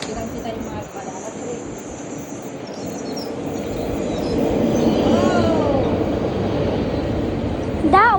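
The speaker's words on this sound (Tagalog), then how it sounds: "That is our train." A train rolls past on a windy day, its low rumble building and growing louder midway before ending with a brief high squeal, while voices talk over it.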